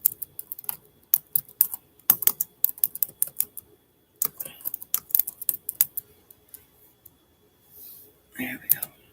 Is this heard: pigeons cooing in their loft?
no